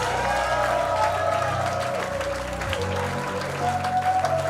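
Audience applause for a comedian at a live stand-up comedy semi-final, a steady wash of clapping from a crowd with light cheering, continuous throughout.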